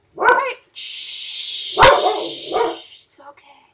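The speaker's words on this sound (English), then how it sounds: "Hey, dog, be quiet, dog." A dog in Minecraft gives a few sharp barks and yips amid close speech, with a sustained high tone running through the middle.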